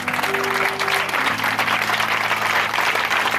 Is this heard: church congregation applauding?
yes